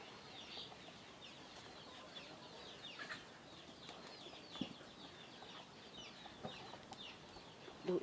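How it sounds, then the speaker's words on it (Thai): Chickens and ducks at feeding time on a Thai farm, with soft clucks and scattered calls alongside wing flaps and light scratching, fairly faint and steady throughout with no talk. "ป้าให้อาหารเป็ดอาหารไก่กัน"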